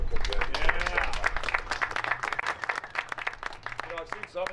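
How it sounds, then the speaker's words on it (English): Audience applause at an Illinois governor's bill signing for Route 66 motorcycle plates, a steady patter of many hands clapping with voices and cheers mixed through it. "Round of applause again for the Fulgenzies."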